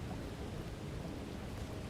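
Steady rain hisses evenly in a video game island build, a constant broadband wash with no breaks, moderately quiet.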